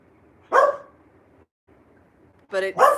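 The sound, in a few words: dog barking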